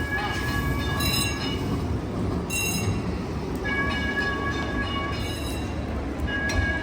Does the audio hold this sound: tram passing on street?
yes